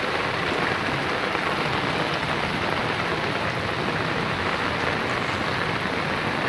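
Heavy monsoon rain pours down in India, a loud, dense and unbroken roar of falling water and drops hitting surfaces, steady throughout with no voices.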